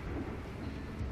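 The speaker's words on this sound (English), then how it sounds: "Another storm to watch for." Thunderstorm in the RimWorld video game, a low continuous rumble with steady rain-like hiss, sustained and fairly loud throughout with no talking.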